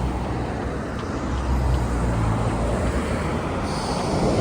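Heavy, congested road traffic in Doha, Qatar, forms a loud, dense roar of car and bus engines rumbling close by. The wash of tyres and motors runs unbroken and grows slightly heavier partway through, with no voices.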